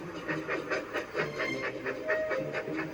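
Thomas the Tank Engine, a small steam tank engine, puffing softly in a steady rhythm of short hissing steam chuffs, kept quiet and close with no talking.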